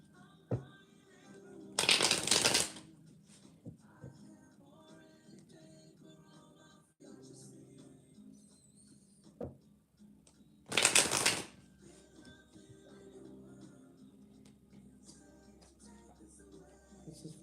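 Two loud bursts of tarot cards being riffle-shuffled, each lasting under a second, separated by quiet stretches with faint handling noises in a room.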